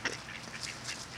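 Ducks quack in short, fairly faint bursts while being fed bread, a few scattered calls heard at moderate distance with no talk over them.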